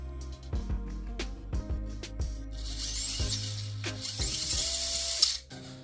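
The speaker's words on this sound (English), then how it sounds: "now we have that nice, you know, ASMR motor turning right there" A Furitek Stinger brushless outrunner motor drives an RC crawler, giving a whirring, ratcheting mechanical grind in short bursts and repeated clicks, close and moderately loud.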